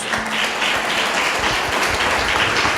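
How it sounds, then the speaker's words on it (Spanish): A church congregation claps together in sustained applause, a dense, even patter of many hands filling the room for a few seconds without any talking. "dale un aplauso a Dios"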